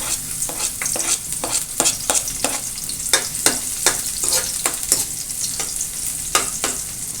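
Garlic sautéing in coconut oil in a pan, a steady loud sizzle broken by repeated rhythmic scraping stirs of a utensil, close and continuous.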